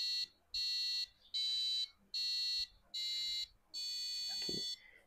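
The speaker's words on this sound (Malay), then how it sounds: "Jadi kita akan dengar lah lagu birthday yang dikeluarkan oleh buzzer." An Arduino Uno buzzer plays the Happy Birthday tune as six shrill electronic tones, close and loud, separated by short gaps, with the final note held longest.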